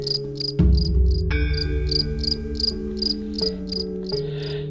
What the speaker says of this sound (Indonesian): segera digantikan suara jangkrik dan sahut menyahut katak sawah